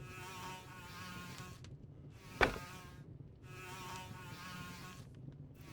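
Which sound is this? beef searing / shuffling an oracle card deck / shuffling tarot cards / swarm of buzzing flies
swarm of buzzing flies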